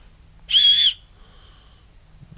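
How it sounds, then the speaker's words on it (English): A small whistle, like a dog whistle, is blown once in a single steady, high-pitched, fairly loud tone lasting under half a second, followed by quiet room sound. "I want to say that's a whistle."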